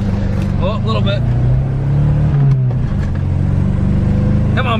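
A worn beater car's engine revs up and holds a rising drone, then drops back, loud and close, with a voice talking over part of it.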